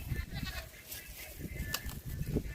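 A baby goat bleats on a farm, faint and repeated in short calls against rustling and background noise.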